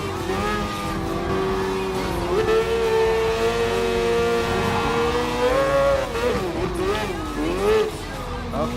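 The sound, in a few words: Mazda 787B race car engine revving in Gran Turismo Sport video game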